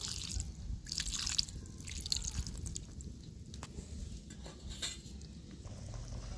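Water stirred into a pan of simmering vegetarian jackfruit curry with a spatula, soft bubbling, dripping and patter, close and quiet with occasional scraping.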